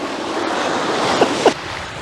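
Ocean waves wash in a continuous broadband roar with wind buffeting the microphone, and two brief louder splashes stand out near the end.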